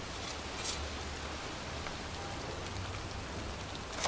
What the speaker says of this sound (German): Es ist kalt, es regnet.